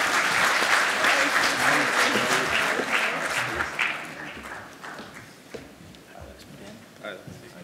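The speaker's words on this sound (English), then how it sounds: "Would you give them a round of applause, please?" An audience at a Digital Workspace panel event applauds the panel members, a loud, dense patter of many hands that swells and then gradually thins out and fades.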